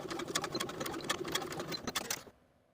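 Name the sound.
sewing machine stitching across a placket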